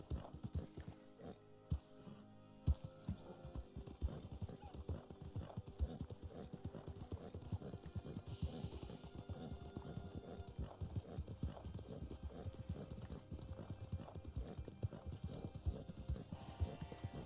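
Horse hooves clip-clop steadily in Red Dead Online, a continuous rhythmic trot of close, even hoofbeats running throughout, with a brief whinny and faint game ambience underneath.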